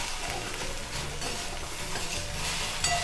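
Vegetable curry being stirred in a pot, a dense continuous sizzle and bubbling with soft scraping of a spoon, close and even in level throughout the short stretch, no talking.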